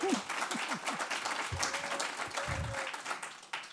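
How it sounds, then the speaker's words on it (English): Audience applause at a SXSW 2022 event, steady broadband clapping throughout, with a brief voice rising at the start and a few low thumps under it. "Give Arne applause."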